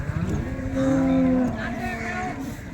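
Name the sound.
calf or cow mooing at a cattle market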